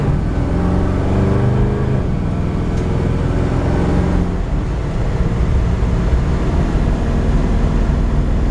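A 1964 Chevrolet Impala's engine roars steadily up to speed, its pitch rising and then dropping as the automatic transmission shifts gears, loud and close with constant road noise.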